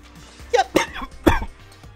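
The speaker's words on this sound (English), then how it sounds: "cough." A speaker playing Danganronpa: Trigger Happy Havoc coughs three times in quick succession, close to the microphone and fairly loud. The coughs are short and throaty, with no words spoken between them.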